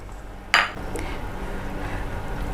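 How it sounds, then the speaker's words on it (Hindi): Fried okra being mixed into a yogurt gravy in a pan: one sharp clink of a utensil against the pan, then a soft metallic tap and quiet wet stirring. "अब ये फ्राई की हुई भिंडियाँ हम इस ग्रेवी में मिला देंगे।"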